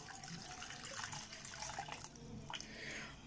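Water pours steadily into a cooking pot holding sugar for homemade honey, a continuous close splashing trickle that stays fairly soft throughout.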